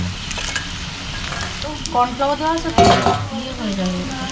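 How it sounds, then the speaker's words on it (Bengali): Chicken pakora frying in hot oil, a close continuous sizzle with stirring and utensil clatter, while people talk over it. "চিকেন পকোড়া ভাজা চলছে এখন"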